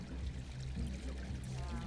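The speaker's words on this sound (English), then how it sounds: "There's a waterfall behind the bar." Steady gurgling rush of water from a waterfall behind a bar in a Hitman game set in Paris, continuous and fairly close with low murmuring tones.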